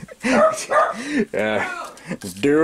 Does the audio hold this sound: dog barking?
yes